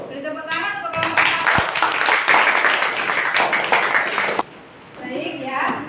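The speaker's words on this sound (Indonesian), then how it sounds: "Beri tepuk tangan untuk kelompok." Classroom applause for a student group presenting on air pollution, a dense burst of clapping lasting several seconds before cutting off, with voices mixed in.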